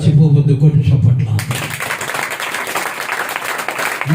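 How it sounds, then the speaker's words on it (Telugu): A congregation at a church sermon claps steadily in a dense, sustained patter after a stretch of amplified preaching, the clapping carrying on to the end. "కొట్టి చప్పట్ల."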